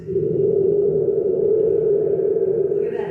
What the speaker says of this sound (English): It's that vibration of the spring that gives you a sound of thunder.